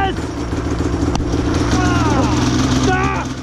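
Snowmobile engine running close by with a steady rough motor drone and revving, under continuous talking.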